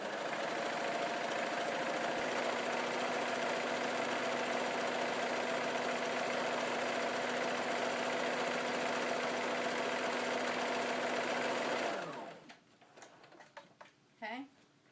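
Sewing machine running a steady zigzag stitch along a folded hem of a fabric apron, a continuous close mechanical whir that stops abruptly, followed by faint handling noises.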